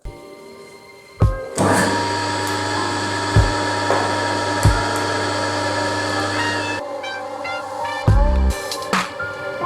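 A jewelry rolling mill presses white gold solder flat in a workshop, a steady mechanical whirring drone broken by several sharp clicks and thumps near the start and end, close and alone.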